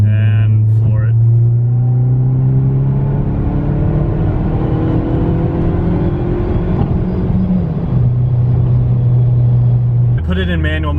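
A tuned 2003 Saab 9-3 2.0T on a Maptun Stage 3+ tune pulls hard at full throttle in fifth gear, engine note climbing steadily for several seconds before easing off, heard loud from inside the car.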